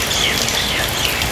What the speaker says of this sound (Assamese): ইয়া বৰষুণ এতিয়াও দিয়ে আছে